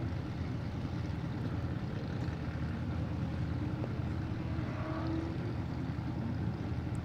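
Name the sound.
off-road race vehicle engine running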